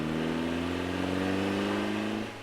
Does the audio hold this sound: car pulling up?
yes